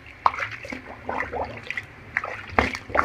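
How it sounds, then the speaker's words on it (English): Towels are hand-rinsed in a tub holding about 2.5 gallons of water, giving soft sloshing, dripping and splashing with a few sharper splats, close and moderately quiet. "Now to finish rinsing the clothes."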